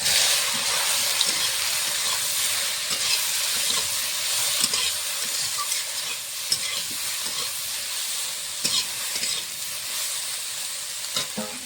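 Soya chunks fry in mustard oil in a wok, giving a steady, close sizzle and hiss with occasional stirring scrapes throughout, no voices.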